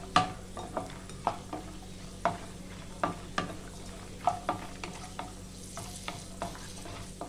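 Nuts and raisins lightly frying in a pan for chirer pulao, a soft background sizzle broken by a steady series of sharp spoon scrapes and taps against the pan, with no voices.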